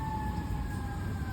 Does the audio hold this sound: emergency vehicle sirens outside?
yes